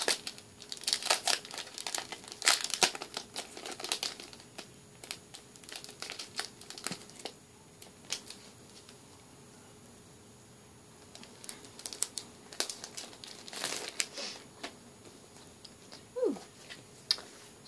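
Plastic packaging of a Shopkins sticker kit crinkling and tearing as it is opened, close and fairly quiet, in scattered bursts of rustling with a brief lull midway.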